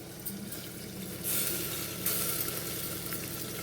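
Onions with turmeric fry in a pan for an Indian potato-tomato curry, a quiet continuous sizzle with a couple of brief brighter hisses as the pieces are moved.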